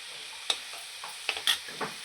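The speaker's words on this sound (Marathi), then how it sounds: "असं ह्याला गॅस बारीक करून आहे ना व्यवस्थितरित्या फ्राय होऊ द्यायचं" Chicken thecha frying on low gas in a pan, a faint steady sizzle with a few sharp spoon clicks and light stirring scrapes, close and quiet.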